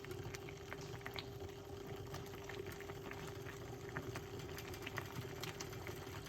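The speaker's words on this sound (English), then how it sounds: "Make it boil up a little bit." Weight loss tea simmering in a pot, a quiet continuous bubbling boil with a steady low hum and faint liquid pops throughout.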